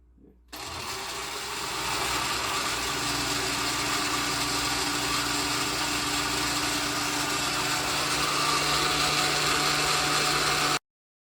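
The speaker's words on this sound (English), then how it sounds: "I use a blender, Richard. So we're gonna begin now." A kitchen blender runs steadily while blending carrot for a Caribbean pumpkin punch, a loud, continuous high-pitched motor whir that starts abruptly and holds for about ten seconds before cutting off.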